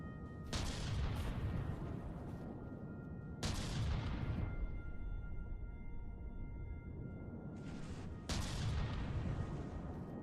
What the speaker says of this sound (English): God, I love this gun.